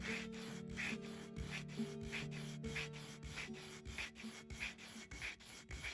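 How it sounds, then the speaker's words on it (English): Sandpaper being worked over a guitar saddle to shape a 12-inch radius, with quiet, rhythmic back-and-forth strokes repeating steadily throughout. "now we're just gonna sand this down to a 12-inch radius"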